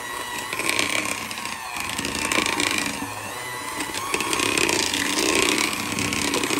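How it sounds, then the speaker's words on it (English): A buzzing electric hand mixer whirs continuously, its motor pitch wavering slightly as it works, loud and close with a gritty mechanical edge. "Sorry about the noise, that's part of a hand mixer."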